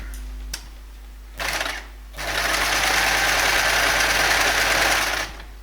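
A sewing machine stitches the lining edge of a nighty, starting with a short burst, pausing, then running in a steady close mechanical whir for about three seconds before stopping.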